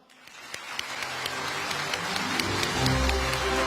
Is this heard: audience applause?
yes